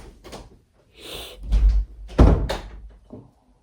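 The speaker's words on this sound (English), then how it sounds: "She closed the door for once." Indoor door swung shut, a few soft scrapes and rustles building to two heavy low thumps close by, the second the loudest, then quiet.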